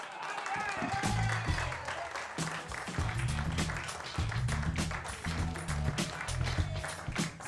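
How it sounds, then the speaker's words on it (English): A live stand-up comedy audience in Chicago breaks into sustained applause and clapping, with scattered cheers and voices mixed into the steady crowd noise. "had all y'all clapping"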